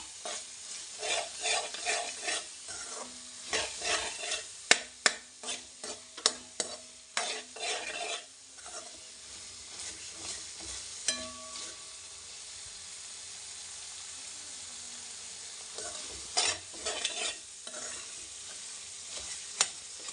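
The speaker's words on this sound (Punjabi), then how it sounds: "ਹੁਣ ਇਹਨਾਂ ਨੂੰ ਮਸਾਲਿਆਂ ਨੂੰ ਆਪਾਂ ਚੰਗੀ ਤਰ੍ਹਾਂ ਮਿਕਸ ਕਰ ਦਿੰਨੇ ਆ" Spices with chilli and turmeric stirred and frying in a pan for sweet-and-sour tomato chutney: steady sizzling hiss under repeated rhythmic scraping of a spoon against the pan, close and continuous throughout.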